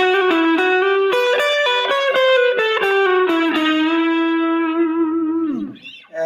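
Effects-laden electric guitar plays a fast fusion lick, a loud stream of quickly picked, distorted notes ending on a sustained tone that bends and fades away, with no voices.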